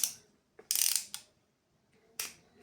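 A plastic ratchet screwdriver, a cheap budget model, gives several short, sharp clicking bursts as its mechanism switches, separated by brief pauses, close and alone.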